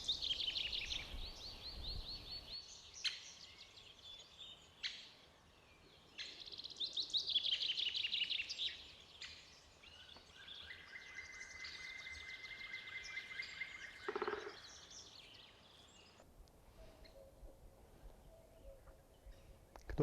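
Outdoor birdsong with a cuckoo and a chiffchaff singing, several bright chirping phrases overlapping near and farther off over quiet background ambience, without any talking.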